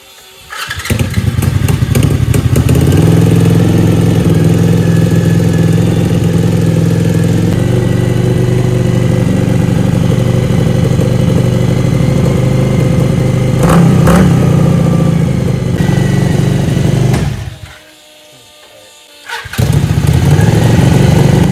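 A 1000cc monster kart engine cranks and fires up loudly up close, then settles into a steady rumbling warm-up idle, cuts out briefly near the end and restarts.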